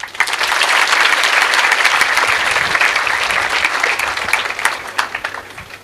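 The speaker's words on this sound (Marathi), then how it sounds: "त्यांच्यासाठी फार मोठ्या टाळ्या" A crowd applauds in honour of an organisation and its teachers: dense, loud clapping that swells quickly, holds steady, then thins out toward the end.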